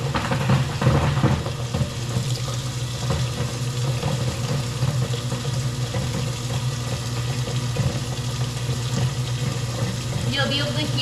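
A kitchen garbage disposal runs with hot water pouring through it, giving a steady, loud churning rumble mixed with rushing water, with a faint voice underneath.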